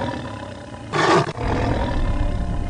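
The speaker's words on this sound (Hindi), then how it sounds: "बाघ गुर्राते हुए उसके सामने खड़ा है" A tiger at the Delhi zoo lets out one short, loud roaring growl that rises sharply and cuts off, followed by dull background noise.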